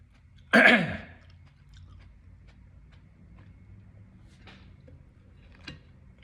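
A person chewing food up close: a loud crunchy bite at the start, then softer, quieter chewing sounds with a few small clicks, and no talking.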